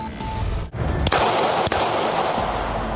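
An artist shoots a gun at a shooting range, with a few loud sharp reports at irregular intervals over steady outdoor noise.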